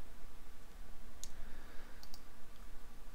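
Mouse clicks on a computer while working on a layer mask in Photoshop: a couple of small, sharp ticks around the middle of a quiet stretch, close and faint, with no voice.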